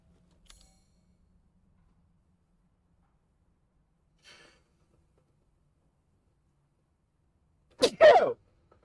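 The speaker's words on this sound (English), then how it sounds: "I casually sneeze." A single sharp sneeze bursts out near the end after long near-silence, preceded only by a couple of faint, brief ticks.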